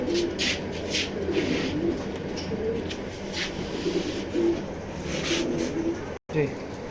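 Racing pigeons coo in soft, repeated throaty phrases close by in a loft, with a voice speaking in the background.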